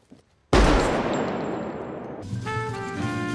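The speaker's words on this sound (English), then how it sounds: "The sound of the gunshot here far exceeds the Hollywood standard" One sudden, very loud gunshot in a scene from the film Collateral blasts after a brief quiet, its boom ringing and decaying into a sustained metallic, tonal reverberation.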